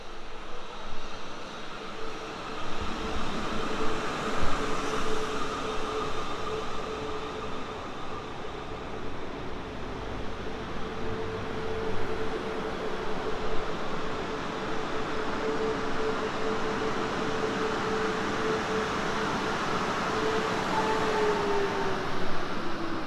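A train passes Winchfield station on the South Western Main Line, a long steady rumbling roar with a faint whine, sustained at fairly even loudness and gradually shifting, with no talk.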